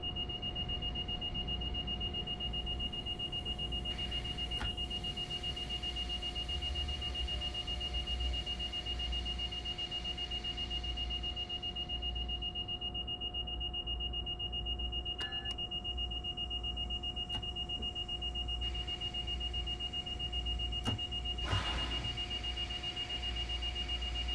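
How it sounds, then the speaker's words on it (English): A train warning buzzer in Train Sim World 4 sounds as a steady, continuous electronic tone over a low cab rumble, with occasional clicks and brief bursts around it. "Definitely got to be an issue there with the buzzer."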